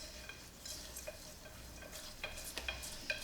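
Whisk scraping and stirring through a brown sugar and butter mixture in a Ninja Foodi pot, with light rhythmic clicks and scrapes over a faint steady hiss, quiet and close.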